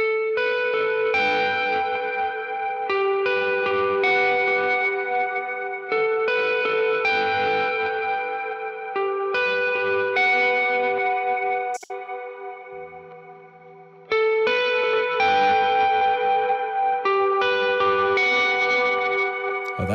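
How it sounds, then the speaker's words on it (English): Clean electric guitar chords ring out through a Strymon Iridium with a lush reverb wash, each strum leaving a long shimmering tail that fades before the next phrase. "Turning on some reverb too."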